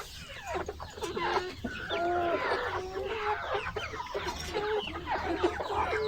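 Flock of 15-week-old layer chickens nearing laying age, clucking and calling continuously in overlapping, rising and falling notes, close and fairly loud, with no talk.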